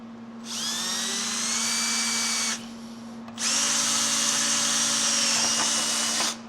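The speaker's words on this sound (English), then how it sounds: "Drill it." A power drill whines in two sustained bursts separated by a short pause while drilling a hole during a Husqvarna K971 repair, close and loud, with a steady electrical hum underneath.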